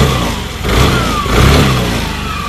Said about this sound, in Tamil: ரவ் பண்ணி பார்ப்போம்.